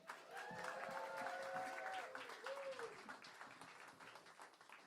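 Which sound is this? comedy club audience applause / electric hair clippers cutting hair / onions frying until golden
comedy club audience applause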